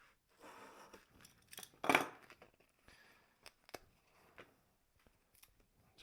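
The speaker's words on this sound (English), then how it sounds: "I'm going to grab this sandpaper. I'm going to cut some slices off really quick." Snips of scissors cutting thin slices from a sheet of 320 grit fabric-backed Harbor Freight sandpaper, a run of scratchy cuts with one louder crunch, then scattered sharp clicks and light handling taps, close and quiet.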